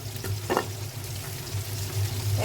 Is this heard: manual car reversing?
no